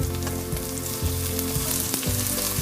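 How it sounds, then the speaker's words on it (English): Loud, continuous sizzle of chopped onion and capsicum sautéing in a hot pan, with a few light stirring knocks and no voices, during preparation of a vegetable korma. "Add 1 big onion chopped. Just saute it."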